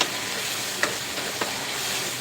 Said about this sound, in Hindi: अभी हमें इसमें डालने हैं आलू, जो हमने फ्राई करके और कोट करके रखे हैं